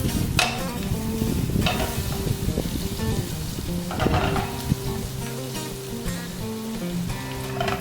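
Sliced onions sizzle steadily in a hot pan, a close crackling fry broken by several scraping stirs of a utensil.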